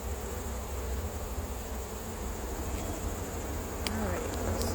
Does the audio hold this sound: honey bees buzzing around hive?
yes